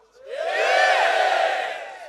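At a naval academy spring festival, a large crowd lets out a single sustained shout and cheer that swells quickly, holds for about two seconds, then fades, loud and unaccompanied by talk.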